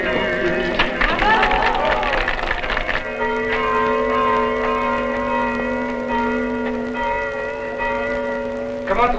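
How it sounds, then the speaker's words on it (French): Church carillon bells, slightly cracked, ringing sustained tones that overlap and linger after an opening stretch of clattering and crowd noise, fairly loud. "Comment trouvez-vous mon carillon, monsieur le curé?"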